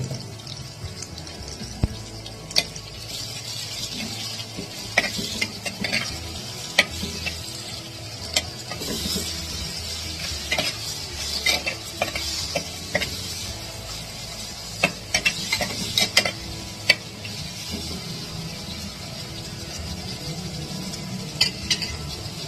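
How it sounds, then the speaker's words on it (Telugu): Onions frying with salt in a pan, a continuous moderate sizzle with frequent sharp clicks and scrapes of a spoon stirring against the metal, no speech. "ఇందులో కొంచెం సాల్ట్ వేస్తే ఆనియన్స్ తొందరగా ఫ్రై అయిపోతాయి."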